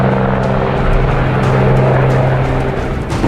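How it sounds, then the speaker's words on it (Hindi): A small helicopter flying a flood rescue mission, landing at makeshift helipads in fields, its steady loud rotor and engine drone filling the whole stretch without any talking. "छोटे छोटे हेलीकॉप्टर्स को भी खेतों में हेलीपैड बनाकर रेस्क्यू मिशन पर लगाया गया"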